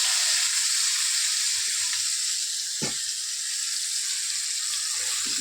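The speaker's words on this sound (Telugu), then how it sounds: "ఇలా మునక్కాయలు కొంచెం బాగా వేయించుకోవాలి ఆయిల్లో" Drumsticks (moringa pods) frying in hot oil give a steady, loud sizzle and hiss throughout, with a brief thump near the middle and no voices.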